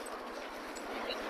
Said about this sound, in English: He has to meet every dog.